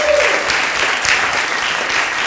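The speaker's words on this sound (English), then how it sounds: "let's give them a big round of applause just for that" A talent show crowd breaks into steady, full applause, dense and sustained with scattered whoops and a faint tone early on.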